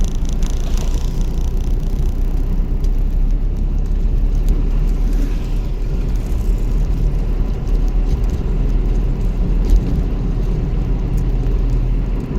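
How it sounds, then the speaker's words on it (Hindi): A car's engine is revved in fourth gear during a driving lesson, a continuous low rumbling drone that holds fairly loud and steady from start to finish with no voices over it. "चौथा का रेस दो, रेस दो, रेस दो, रेस दो"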